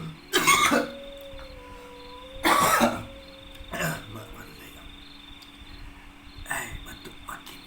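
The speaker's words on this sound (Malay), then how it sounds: "Batuk makin jadi." A person coughs in several harsh bursts, two strong fits then weaker ones, against a quiet night backdrop of steady cricket chirping.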